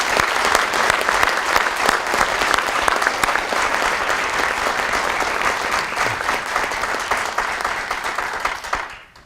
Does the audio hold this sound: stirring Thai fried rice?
no